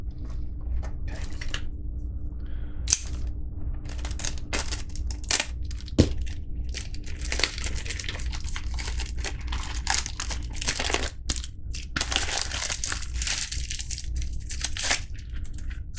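A package being cut into and unwrapped, with irregular crinkling, crushing and tearing of packaging and a light nylon bag, plus occasional sharp clicks and knocks, close and steady throughout with no talk.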